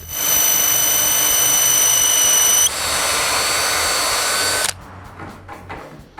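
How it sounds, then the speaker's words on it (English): Power drill with a 3/16 bit bores through wood molding, a loud steady high whine that shifts pitch partway as it cuts, then stops abruptly, leaving faint room noise. "Then I drill straight through with a 3/16 drill bit."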